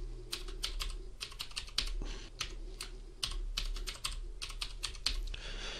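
Someone types a password on a computer keyboard, a quiet, close run of light key clicks in irregular bursts with short pauses.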